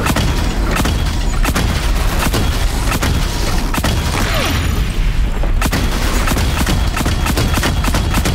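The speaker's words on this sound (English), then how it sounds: "Let's pick up the mine launcher again." Mine launcher fire in the Horizon Zero Dawn video game sets off a dense, continuous barrage of booming explosions with sharp repeated cracks over roughly eight seconds.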